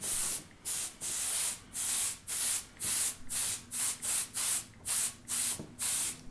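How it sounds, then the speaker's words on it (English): Rhythmic bursts of spray paint hiss from a can, about a dozen short sprays with brief gaps, close and steady. "So now I'm going to spray"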